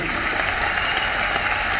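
A dense, continuous round of clapping fills the hall as an audience welcomes guests at the Indore Auto Show 2022, even and sustained without any talk.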